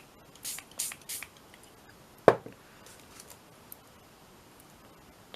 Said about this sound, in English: Shall I just spray it?